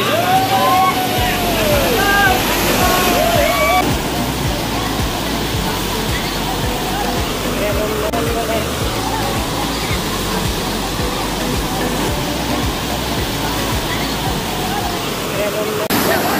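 Fast-flowing river water rushes loudly and steadily where people are bathing near Ayodhya, a dense continuous roar with splashes, with voices briefly audible at the start.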